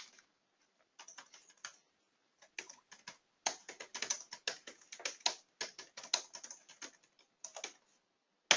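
Rapid, uneven keystrokes on a computer keyboard come in short bursts and pauses, close and fairly quiet, with no talking.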